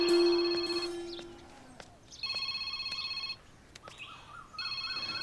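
A mobile phone plays its electronic ringtone in three melodic bursts separated by short pauses. The tone is fairly close and clear, with faint chirps between the rings.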